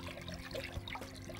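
Milk trickles and splashes softly into a pan while a potato béchamel dish is being made, giving a faint, short liquid pour with no voices over it.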